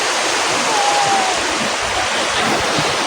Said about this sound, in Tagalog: Ganda ng dagat.